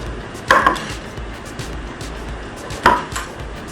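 Two knife chops on a cutting board while potatoes are cut for a beef marrow soup, isolated sharp strikes with a pause between them, close and fairly loud.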